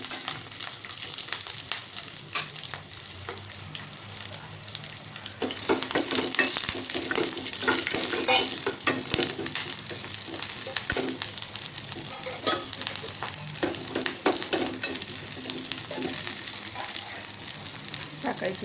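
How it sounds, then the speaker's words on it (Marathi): Mustard seeds, curry leaves and green chillies sizzling and crackling in hot oil for tempering a besan dhokla; a steady close frying hiss that swells louder partway through, with scattered pops and some stirring. "मोहरी तडतडलेली त्यामध्ये घालायचं आहे कढीपत्ता."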